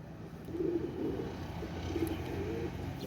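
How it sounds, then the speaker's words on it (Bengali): A pair of Pakistani Kamagar pigeons coo in several soft, low, rounded calls spaced about a second apart, heard close over a steady background hum. "দেখেন একজোড়া পাকিস্তানি কামাকার কবুতর"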